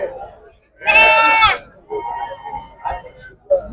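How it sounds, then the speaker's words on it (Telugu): Goats and sheep at a livestock market in Mulugu district, Telangana: one loud, close, wavering bleat stands out, followed by fainter bleats and nearby human voices. "ఇందులో మేకలు పోతులు అన్ని మిక్సింగ్ ఉన్నాయి"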